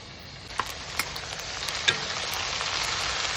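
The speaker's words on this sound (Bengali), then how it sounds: "এবার এই মশলাটা এই পেঁয়াজ ভাজার মধ্যে দিয়ে দেবো।" Spice paste of turmeric, cumin and coriander powder hitting frying onions in a pan, giving a steady close sizzle with a few sharp stirring clicks and scrapes.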